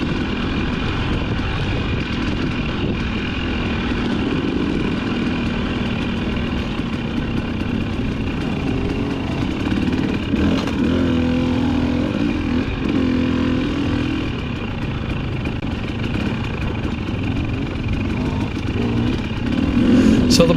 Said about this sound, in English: the bike I'm riding is a 2020 Husqvarna TX300i. The TPI bike.